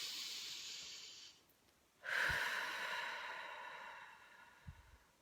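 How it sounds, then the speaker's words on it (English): A person takes deep breaths close to the microphone: a long inhale-exhale, a pause, then another long drawn breath out, soft and airy with no talking. "Okay, deep breath."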